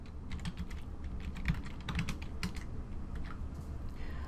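Typing on a computer keyboard, quick irregular key clicks in bursts, close and fairly quiet, with no talking.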